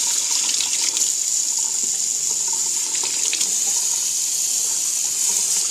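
Very warm tap water runs steadily into a jar, a continuous, close splashing flow with no pauses and no speech.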